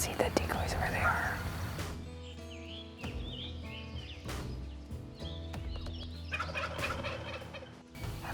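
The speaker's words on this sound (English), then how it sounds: "Pretty sure it's three jakes, Kara." Three wild turkey jakes gobble in the distance, rattling calls repeating several times outdoors, faint and far off beneath hushed, whispered talk nearby.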